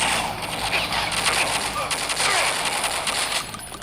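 Rapid bursts of gunfire in a modded Doom shooter game on Android, dense repeated shots rattling on nearly continuously and loudly, with someone talking excitedly over the shooting.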